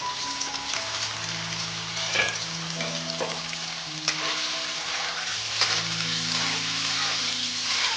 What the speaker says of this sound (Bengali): কড়াইয়ের তেল গরম হয়ে গেছে, এই পনিরগুলো তেল ছেড়ে দেবো।